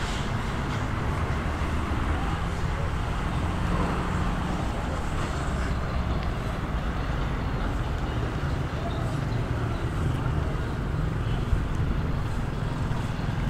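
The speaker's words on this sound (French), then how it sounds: "Vous avez des jeeps, ça c'est pour le transport public." Street traffic in Xevera, Mabalacat, with public transport jeeps passing: a steady, broad rumble of engines and road noise with wind, continuous and fairly loud throughout, no distinct individual events standing out.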